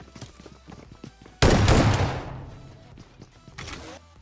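PUBG Mobile gunfire: a sudden loud burst of shots erupts mid-clip and rings out in a decaying tail, with softer scattered game noises before and after.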